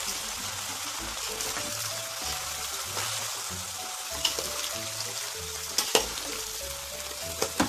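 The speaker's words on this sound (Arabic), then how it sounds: "نبتدي نقلب بقى كله مع بعضه" Lentils and koshari ingredients stirred together in a single pot, a steady sizzling fry with scraping spoon strokes and a few sharp clinks against the pot, no talking.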